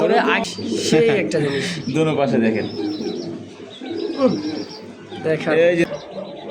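Pigeons at a pigeon farm coo repeatedly in a low, throaty rumble, with someone talking loudly over them and some higher chirps mixed in.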